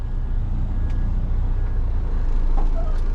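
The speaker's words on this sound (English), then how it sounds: "Truck pulled in right where I was." A truck pulls in close by, its steady low engine rumble filling the scene with a brief air-brake-like hiss near the end, alone without talk.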